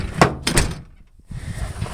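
Doors on an old S10 pickup truck shut with two heavy, close thunks in quick succession, followed by a brief quiet and then steady engine and cab noise.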